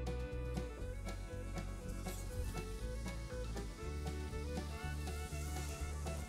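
Flour and reserved dredging spices fry in vegetable oil over medium heat to make a roux for country-style steak, giving a steady, close sizzle over a tonal background bed.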